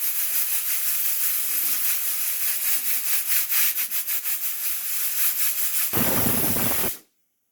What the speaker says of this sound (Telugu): విజిల్ వస్తుంది ఫ్రెండ్స్. ఒక విజిల్ వస్తే ఆపేస్తాను.